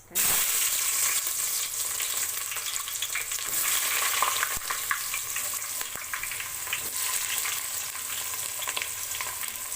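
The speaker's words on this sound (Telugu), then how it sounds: "బిర్యానీ ఆకులు అయిన తర్వాత ఆనియన్స్ వేస్తున్నా" Sliced onions sizzle steadily in hot oil with bay leaves for biryani, a continuous close frying hiss with occasional stirring clinks and no talk.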